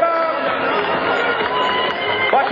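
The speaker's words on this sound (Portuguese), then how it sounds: "Recebendo os aplausos da galera." Big crowd at a Red Bull motocross event in Brasília cheering and applauding a rider, a dense, steady roar of voices and clapping throughout, with an announcer's voice over the top.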